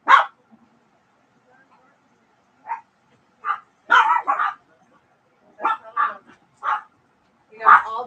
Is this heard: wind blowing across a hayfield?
no